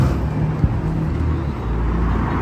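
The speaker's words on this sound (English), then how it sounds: "Some amazing cars passing by." Road traffic near Camber Sands beach in Rye, with cars rolling past in a steady broadband roar and one brief louder thump midway, no voices over it.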